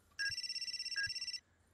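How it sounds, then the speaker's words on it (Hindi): Electronic phone ringtone, a single bright warbling ring lasting just over a second, close and clear against a quiet background. "फोन बजा"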